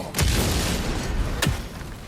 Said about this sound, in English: That bomb should help us out.